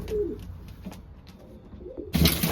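Racing pigeons coo softly several times in a loft, low throaty calls close by, followed by a brief louder rustle or flutter at the end.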